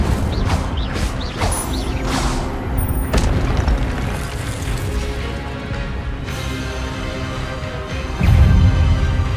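The Incendio fire spell in Hogwarts Legacy erupts amid a dense, loud stretch of booming, crashing combat noise, with a heavy burst near the end.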